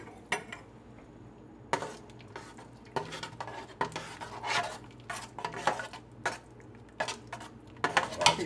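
A utensil stirs beef in a pan, giving repeated close scrapes and metallic clinks in an uneven rhythm, with a faint sizzle underneath.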